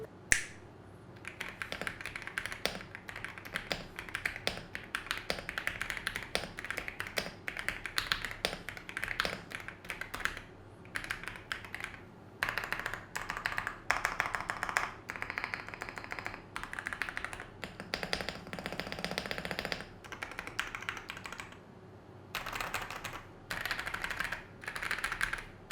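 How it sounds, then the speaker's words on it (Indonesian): Typing on an Epomaker Shadow S mechanical keyboard, a steady run of close, crisp clacky keystrokes with brief pauses between bursts and no talking. "kita dengerin sama-sama aja bagaimana suara dari keyboard satu ini"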